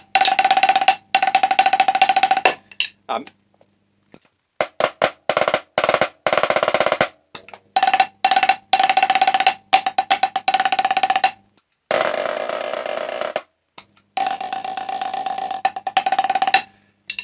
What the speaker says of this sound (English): So you can hear it's quite a loud pad.